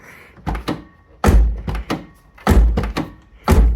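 A door on a 1987 Toyota Tercel, fitted with sound deadener, shut repeatedly: six or so solid, dull thunks in a loose rhythm, loud and close, with no talk.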